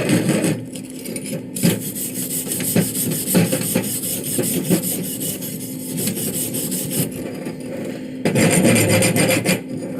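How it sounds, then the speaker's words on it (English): A chipping hammer scrapes and raps at slag on a flux-core weld, a loud, continuous gritty rasping with repeated short strikes and brief pauses, close up and with no talk. "clean the slag off. Chipping hammer."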